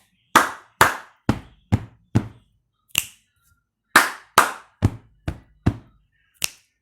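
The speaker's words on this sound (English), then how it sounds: "So you have to clap twice and tap 3 times and snap 1 time." Hand sounds in a repeating rhythm pattern, heard twice: two sharp claps, three lighter taps, then a single finger snap, each hit crisp, close and isolated by brief silences.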